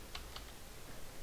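Computer keyboard being typed on in a short burst of a few soft, quick key clicks over a constant background hiss.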